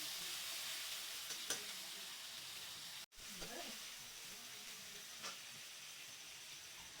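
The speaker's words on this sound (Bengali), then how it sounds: "এবারে আমি দিয়ে দিলাম কেটে রাখা টমেটো, কাঁচা লঙ্কা, একটু ভেজে নিচ্ছি আমি" Chopped tomato and green chili fry quietly in a pan, a faint, even sizzle with a few light stirring taps and one abrupt brief dropout partway through.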